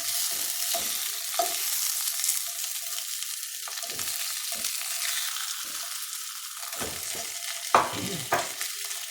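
Pastries warm in a frying pan with a constant, hissing sizzle, broken by a few short scraping and knocking sounds as they are moved around.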